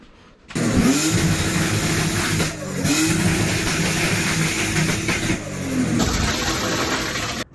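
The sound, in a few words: drift car engine bouncing off rev limiter, screamer pipe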